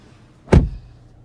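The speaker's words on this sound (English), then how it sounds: "Let me close my door." A single solid thud as the driver's door of a 2022 Kia Forte swings shut from inside the cabin, one short close slam with a quick decay and no talking.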